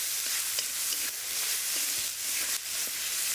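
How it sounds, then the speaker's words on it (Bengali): Chopped banana flower with salt, turmeric and spice powders stir-fried in a pan, a steady soft sizzle with light scraping strokes of a spatula every half second or so, close and alone. "দিয়ে এটাকে আমি 2 মিনিটের জন্য ভালো করে নেড়ে চেড়ে ভেজে নেব।"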